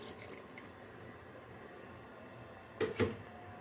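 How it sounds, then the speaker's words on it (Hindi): Water is poured into a pot of mutton korma as a faint, steady trickle, ending in a brief louder splash; quiet and close, with no voices. "अब इसमें हम पानी ऐड करेंगे ताकि ये गोश्त अच्छे से पक जाए।"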